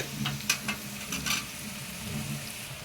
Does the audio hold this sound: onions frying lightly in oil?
yes